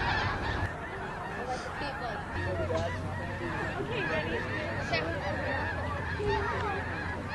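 A large flock of lesser snow geese honks continuously at a festival site, a dense, loud wall of overlapping calls that never lets up.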